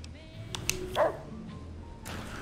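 A robot dog in the video game Fallout: New Vegas (Old World Blues) lets out one short, bright electronic bark over a low game background hum, with faint tones around it.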